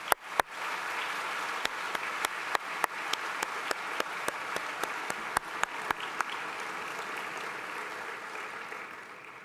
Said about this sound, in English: Let's all show them our support and give them an appreciative applause